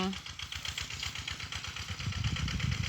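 A walk-behind tractor engine runs steadily with a rapid low putter while ploughing a rice field, staying close and fairly loud throughout and growing slightly heavier toward the end, with voices talking over it.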